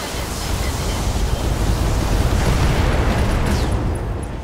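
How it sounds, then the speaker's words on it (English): A mech's ammunition cooks off in a Battletech battle, a loud sustained explosive roar with deep rumbling that holds for several seconds without letting up. "an ammo explosion, that'll do it"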